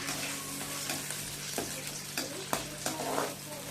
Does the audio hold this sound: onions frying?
yes